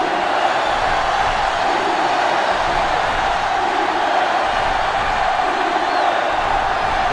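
Stadium crowd in an NCAA 2005 Xbox college football game between Ohio State and Michigan roars as a loud, constant wash of noise without letup.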